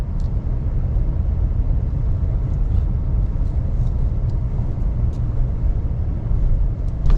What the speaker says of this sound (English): And quite a bit of traffic down here.